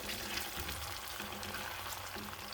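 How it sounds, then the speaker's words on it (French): Garlic, onion, bell pepper and tomatoes sauté in a pan for a Tunisian sauce, giving a faint, steady sizzle and crackle with no voices. "je fais revenir l'ail, l'oignon et le poivron et les tomates."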